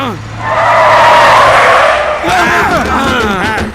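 A vehicle brakes hard and skids, with a loud sustained tire screech, then voices shouting over the fading squeal.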